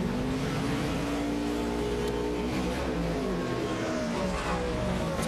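NASCAR Nationwide Series race cars roar around the track at California in a 2009 race, a continuous loud engine drone with shifting pitch and no talk over it.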